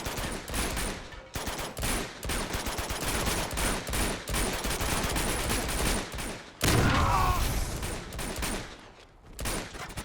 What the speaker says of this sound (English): Chloe shoots them for 4 minutes, but doesn't kill any of them.